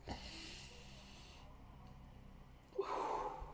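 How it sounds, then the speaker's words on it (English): A person near Cape Coast Castle in Ghana draws a long, soft breath in and then lets it out in a louder, audible exhale, close to the mic. "Take a deep breath"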